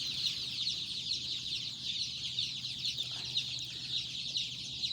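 Australorp chicks and grown chickens cluck and cheep continuously at close range in a poultry room, a busy, steady chorus of overlapping bird calls with no talking.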